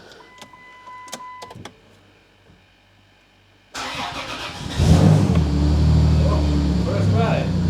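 A Chrysler Grand Voyager V6 cranks and fires on the first try after a quiet stretch of faint clicks, then settles into a steady, fairly loud idle up close.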